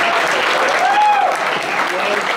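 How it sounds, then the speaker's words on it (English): An audience at a comedy improv show applauds, continuous clapping throughout with a few voices calling out over it. "give a round of applause."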